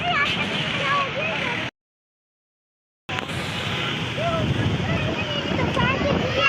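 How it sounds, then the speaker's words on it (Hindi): A strong storm wind buffets the microphone at an outdoor fish point by the airport in Karachi. The gusty roar runs loud and close, cuts out briefly, then returns, with a person talking over it. "तूफान आ गया।"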